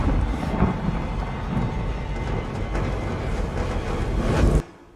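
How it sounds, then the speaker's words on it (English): A heavy thunderstorm in a fantasy drama episode, with steady loud rain and rolling thunder filling the scene before it cuts off abruptly near the end. "The storm is coming, Celebrimbor."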